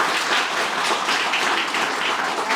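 Applause from a school audience at an educational quiz show, a dense and even patter of many hands that stays loud and unbroken with no talking.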